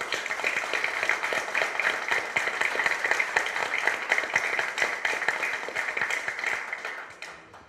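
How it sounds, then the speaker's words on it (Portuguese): A room of people gives sustained applause for new football club directors at their presentation, a dense steady clapping that holds for several seconds before fading out at the end. "Eu queria uma salva de palmas para eles"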